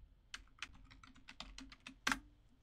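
Quiet typing on a computer keyboard, about a dozen light, unevenly spaced keystrokes close up, ending with one firmer, louder key press.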